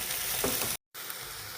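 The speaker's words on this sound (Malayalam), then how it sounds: "ഇപ്പോൾ നമ്മൾ മസാലകളെല്ലാം ചേർത്ത് നന്നായിട്ടൊന്ന് ഇളക്കി യോജിപ്പിച്ചിട്ടുണ്ട്" A brinjal pepper roast sizzles steadily in a pan as masala is stirred through, a close frying hiss broken by a sudden brief gap of silence before it resumes.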